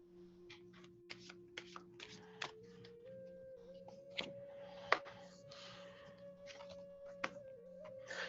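Oracle cards are shuffled and moved around by hand, giving soft scattered card slaps and rustles close by over a quiet steady hum.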